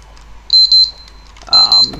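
Timer alarm in the video game 7 Days to Die: two pairs of sharp, loud electronic beeps about a second apart, ringing over a faint background hum.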